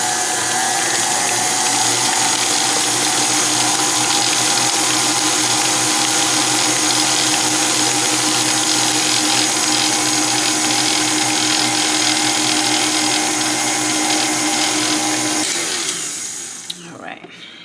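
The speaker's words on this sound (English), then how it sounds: "we're just going to mix this up just enough so it's well combined" A mixer whirs steadily through gluten-free dessert batter, loud and continuous for most of the stretch before winding down and stopping near the end.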